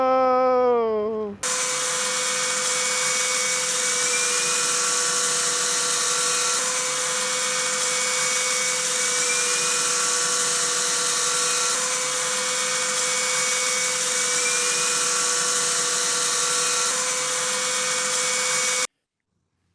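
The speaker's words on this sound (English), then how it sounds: "You get to play with remote-controlled helicopters." A remote-controlled helicopter whines steadily and loudly, its motor and rotors holding a constant high-pitched drone with slight pitch wobbles before cutting off abruptly at the end.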